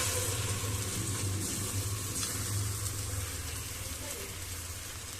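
Tomato puree for paneer butter masala hitting a hot pan, a dense steady sizzle with a watery hiss and a low hum underneath, continuous and close.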